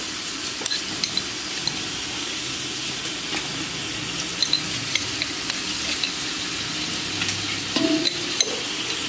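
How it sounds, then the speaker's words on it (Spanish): Garlic frying over medium heat in a pan with cumin and pepper added, a steady close sizzle with occasional clinks and scrapes of a spoon stirring. "Ahora echamos el ajo para que se esté dorando."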